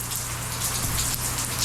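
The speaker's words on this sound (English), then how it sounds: "It's a rainy day" Steady rain falls on a rainy day, a continuous dense hiss of drops at even loudness with no voices.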